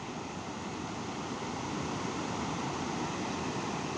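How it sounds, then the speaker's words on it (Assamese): A swollen muddy river runs after heavy landslide rains in Kalaktang, Arunachal, a dense continuous roar of fast water that stays loud and even throughout. "নদীত পানী কিমান বাঢ়িছে চাওঁ দেই।"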